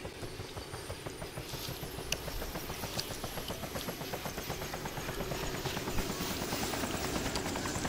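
A helicopter in the DayZ video game flies nearby, its steady rotor chop pulsing evenly under a constant engine whine that swells slightly louder over the stretch.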